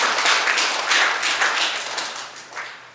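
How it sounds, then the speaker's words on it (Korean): Applause from a ceremony audience at a literary association's presidential inauguration, a dense clatter of many hands clapping that swells, then gradually thins and fades over a few seconds, with no talking. "네, 다시 한번 박수 부탁드리겠습니다."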